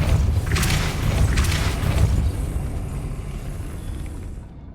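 Depulso spell blast in the Hogwarts Legacy video game, a deep rumbling boom with a few bright crackling bursts that slowly fades out.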